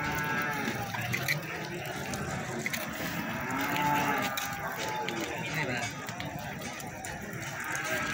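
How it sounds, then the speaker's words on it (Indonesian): Feeder cattle at a livestock market moo repeatedly. The lowing comes over a busy background of crowd noise and people talking nearby. "sapi bakalan nih."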